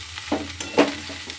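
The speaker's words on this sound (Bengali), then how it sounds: "তো এগুলো দিয়ে ভালোভাবে নেড়ে চেড়ে নেব" Pasta being stirred in a pan with Maggi masala and tomato sauce, giving a few short scraping and stirring strokes over a low steady sizzle, nearby and moderately loud.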